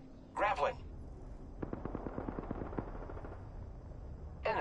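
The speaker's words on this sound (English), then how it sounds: "Opening fire on the enemy." Rapid bursts of automatic gunfire rattle at mid-distance in a video game firefight, with short voice callouts just before and after the shooting.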